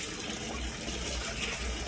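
Water runs steadily from a tap while aquarium gravel is washed, a close, continuous rushing splash with no voices.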